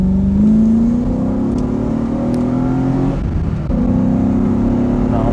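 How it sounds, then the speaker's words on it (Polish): A BMW E30 fitted with a V8, whose oil pan had loose bolts in it, pulls away with a loud, close engine note that climbs steadily in pitch, dips briefly at a gear change, then rises again. "Nie wiem, jaki będzie dźwięk samochodu, czy będziecie coś słyszeć, ale jest naprawdę fajny."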